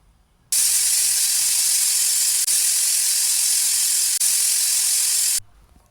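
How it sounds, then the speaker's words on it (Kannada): A pressure cooker holding bisi bele bath with vegetables and peanuts vents steam after three whistles, a loud, steady hiss that runs for about five seconds with two brief dips, then cuts off. "ಈಗ 3 ವಿಷಲ್ ಆಗಿದೆ, ಆವಿ ಎಲ್ಲ ಬಿಟ್ಟಿದೆ"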